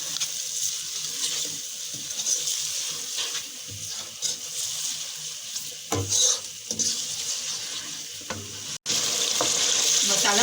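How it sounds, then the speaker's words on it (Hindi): Tomato-paste masala for beef kofta curry frying in a pan and being stirred, a steady broadband sizzle with scattered scrapes and clinks of the spoon, close and fairly even throughout, with no talking. "टमाटर का पेस्ट डालूंगी। अब भुनाई करते रहेंगे हम इसकी।"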